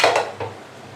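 A metal pan is set down on a kitchen stove with a clanking knock, a second lighter clink following a moment later, close and distinct before fading into quiet room tone.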